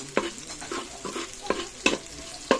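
Garlic sautéing in a pan, browning as it cooks, with a soft continuous sizzle and a series of regular spatula scrapes and taps, close up and without speech.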